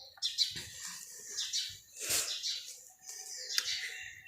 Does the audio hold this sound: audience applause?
no